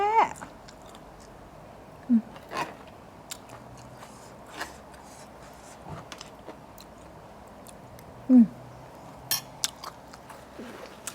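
Someone eating khanom jeen rice noodles with spicy fermented fish sauce (pla ra), with soft chewing and a few sharper bites and crunches spread through a quiet background, plus faint speech.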